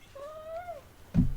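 A pet cat gives a single rising and falling meow, close and clear, followed by a short thump.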